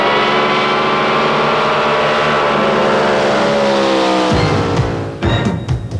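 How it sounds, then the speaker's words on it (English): Drag boat with a blown alcohol Rodac engine races at a drag boat event, a loud, close, steady high-pitched engine wail that drops abruptly in pitch near the end, with no talking. "And this is a blown on alcohol Rodac engine."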